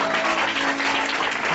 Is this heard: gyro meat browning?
no